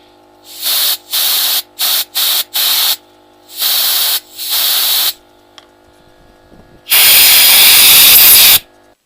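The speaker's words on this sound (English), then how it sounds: "Get a little more WD-40 in there." WD-40 sprayed into a scooter carburetor: a sequence of short, loud, close hissing spray bursts, followed by one longer sustained spray near the end.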